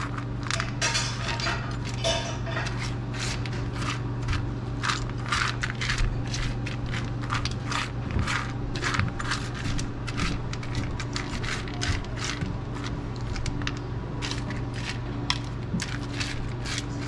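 Pumpkin seeds are spread across a Pampered Chef air fryer tray, producing a steady run of close, dry clicks and light scrapes that continue throughout over a low background hum.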